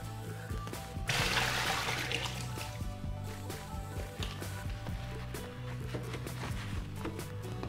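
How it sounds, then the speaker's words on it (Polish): Raw hand-cut potato fries being drained of water in a home kitchen, a continuous splashing pour and trickle of water with a stronger rush partway through, heard close and fairly quiet with a low hum underneath. "Oczywiście frytki musimy najpierw odcedzić i delikatnie obsuszyć."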